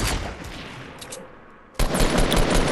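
Gunfire in the Fortnite Battle Royale video game, heard as dense, loud sustained firing that dips briefly and then resumes in a sharp burst.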